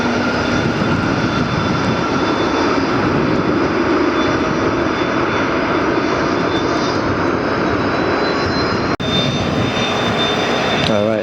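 A Spirit Airbus A320neo with Pratt & Whitney engines takes off, its steady loud engine roar holding throughout with a faint high whine, with one brief dropout near the end.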